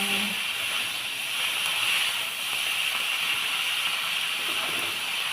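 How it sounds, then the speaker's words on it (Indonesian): Salted fish stir-frying in a spice paste gives off a steady, even sizzling hiss that carries on without a break for several seconds, close by and with no voices. "kita masukin ikan asinnya, kita tumis lagi biar dia kena bumbunya"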